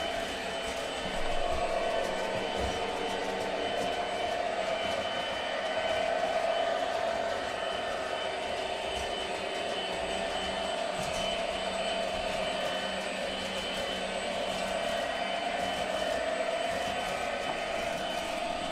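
MTH model train pulling a CNO work caboose, running with a steady rolling rumble and a faint whine, continuous and fairly close for the whole stretch, no talking.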